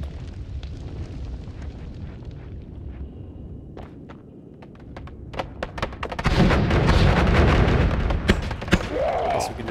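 Explosions rain down in the roguelike game Noita as a spray of projectiles carpet-bombs an area, with sharp bursts growing into a dense, loud rumbling barrage in the second half while a voice talks over it.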